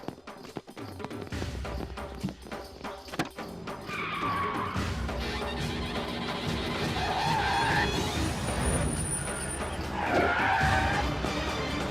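A car pulls away in a dramatic action scene, its engine roaring and tires squealing in skids with rising and falling screeches over a steady loud rumble, mixed with film sound effects.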